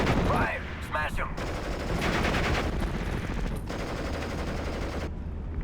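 Dense gunfire from Steel Division Normandy 44, a continuous loud clatter of shots and bursts running the whole time, with brief voice-like calls near the start.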